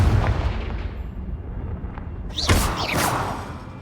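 Confringo fire spell blasts in Hogwarts Legacy: a booming, gunfire-like report at the start, then a second sharp crack with a whooshing burst midway, loud and close with rumbling tails.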